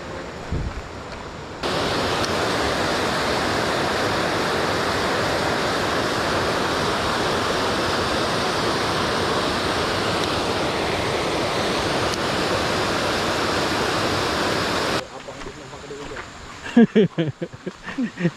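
A clear river rushing steadily during a fishing trip, a loud, even broadband roar of flowing water close by, cutting off near the end into brief handling noises and a faint voice.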